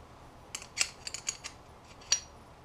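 Metal washer on an angle grinder being flipped and tightened down, a short series of small, close metallic clinks and scrapes in quick irregular bursts, with a quiet background and no voices.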